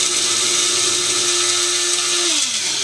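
Electric coffee grinder finely grinding coffee beans for espresso, a steady close whirring drone with a high mechanical whine that drops in pitch near the end as the motor winds down.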